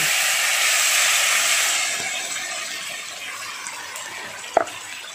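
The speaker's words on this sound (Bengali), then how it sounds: "এবারে বেটে রাখা মশলাটা দিয়ে দিচ্ছি" Ground spice paste frying in oil over whole cinnamon, cloves, peppercorns and garlic for a prawn curry: a loud, steady hiss of sizzling that eases slightly, with one brief utensil clink near the end.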